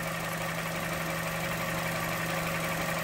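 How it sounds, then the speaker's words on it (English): A Vauxhall Corsa engine idles roughly with a lean-running fault, a steady close-up drone with a constant low hum and a faint uneven knocking vibration, heard alone without talk. "our engine is quite shaky from this side over here"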